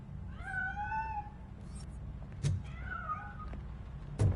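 Two rising-and-falling cat meows inside a building in the video game RoboCop: Rogue City, close and clear over a low background hum, with soft thuds in between.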